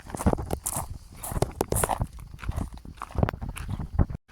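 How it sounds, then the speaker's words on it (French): Several horses walk nearby on open hillside ground, their hooves clip-clopping in an irregular run of close, fairly loud thuds with occasional snorts and rustling. "Il y a encore des chevaux."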